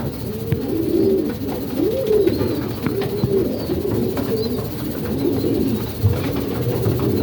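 Pigeons cooing in a loft, repeated soft low throaty coos overlapping over several seconds, close and steady against a faint background hum, with no talk.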